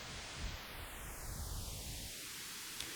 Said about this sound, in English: with the resonance all the way down, gives us this kind of phasing sort of sound.